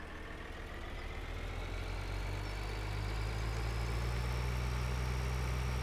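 Steady tractor engine drone from Farming Simulator 2013, a continuous low rumble with a faint higher whine, holding even and loud throughout with no voices.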